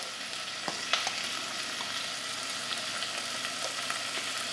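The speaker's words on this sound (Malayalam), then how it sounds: "തക്കാളി ചേർത്ത് കൊടുത്തിട്ടുണ്ട്. അതും ഒന്ന് മിക്സ് ചെയ്യാം." Tomatoes sizzle in a pan for a chicken curry, a steady fry with a few scraping clicks as the mix is stirred, close and even without any voices.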